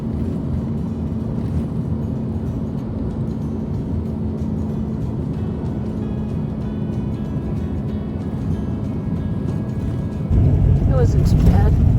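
An RV drives along a gravel stretch of the Alaska Highway, giving a loud, constant rumble of tires and road noise with wind buffeting. The roar grows louder and rougher near the end as the RV speeds up.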